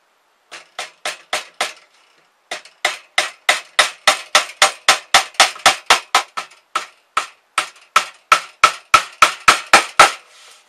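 Rapid rhythmic hammer taps drive tacks into scrap wood, one short group, then a pause, then a long run of crisp, evenly spaced strikes close by.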